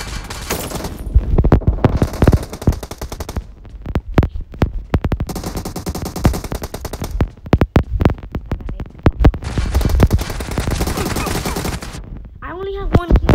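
Rapid automatic gunfire in the video game PUBG, long close bursts of shots with short pauses, loud and dense, with a voice speaking over it near the end.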